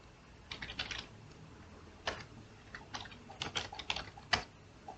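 Keys clatter on a computer keyboard while a network routing command is entered, in short irregular bursts of close, light clicks with pauses between them and no talking.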